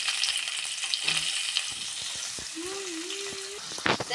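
Coconut pieces, green chili, curry leaves and onion sautéing in a pan, a continuous crackling sizzle with stirring clatters and a brief tonal squeak, no voices.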